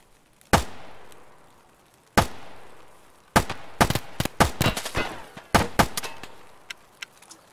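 Escape from Tarkov gunfire, loud and close: two isolated shots with ringing tails, then a rapid uneven string of shots emptying a magazine, tapering into a few scattered cracks.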